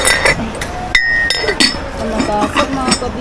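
Glass kitchenware and seashells clinking sharply as they are handled and set down, several bright taps in quick succession while people talk nearby.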